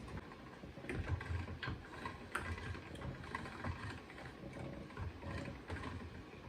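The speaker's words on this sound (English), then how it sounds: "set pasta maker on the widest setting and roll dough through twice" A hand-cranked pasta maker on its widest setting rolls dough through its rollers, producing a rhythmic, close mechanical clicking and grinding whirr that continues steadily with no speech.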